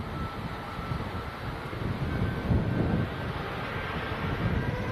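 Jet airliner departing Leeds Bradford Airport, a steady broad engine roar that swells slightly midway, heard at a distance with some wind on the microphone and no talking.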